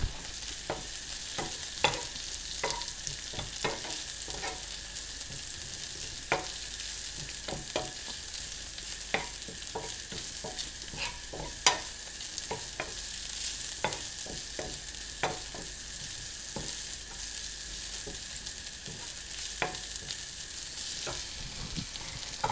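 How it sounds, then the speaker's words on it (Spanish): Spinach is stirred and quickly cooked in a hot pan. A steady soft sizzle runs throughout, broken by frequent sharp utensil scrapes and taps at an uneven rhythm, close by, with no talking. "Y vamos a revolver acá nuestras espinacas."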